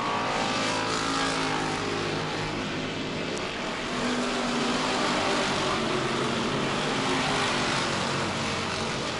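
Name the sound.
hobby stock race cars racing on track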